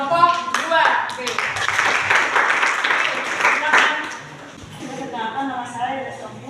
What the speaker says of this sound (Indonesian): berikan dulu aplaus kepada teman kelompok 2